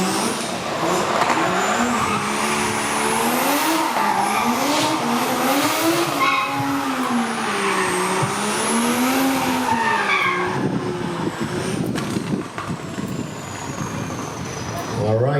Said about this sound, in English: Oh boy, warming up his tyres at the moment.